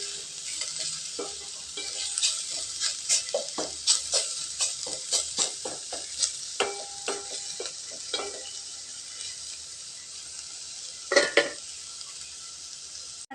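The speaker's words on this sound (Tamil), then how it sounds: "பச்சை வாசம் போகிற அளவுக்கு ஒரு நிமிஷத்துக்கு வதங்கட்டுங்க" Ingredients sautéing in a pan with fresh mochai beans, being stirred steadily: a continuous close sizzle with repeated scraping stir strokes, no talking.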